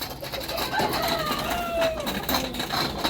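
Derby gamecocks from Pitogo, Quezon crow and cluck nearby, with several drawn-out crows rising and falling over a busy rural background and no talk.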